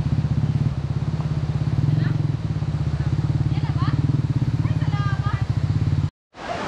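A motorcycle engine chugs steadily and close at a low, even putter throughout, with faint voices and clatter over it before it cuts off near the end.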